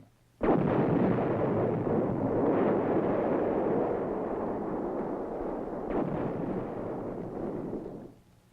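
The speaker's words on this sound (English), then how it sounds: "The 155mm howitzer. And the new 175mm self-propelled long-range gun." A 155mm howitzer and a 175mm self-propelled long-range gun firing, as on an old 1962 film soundtrack: a sudden heavy blast opens into a long, loud rumbling roar, with a second surge partway through before it cuts off.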